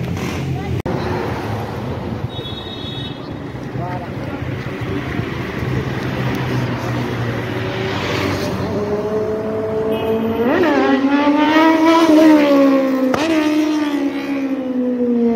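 A new motorcycle ridden and raced, the engine note climbing steadily as it accelerates and revs loudly near the end, with voices talking over it.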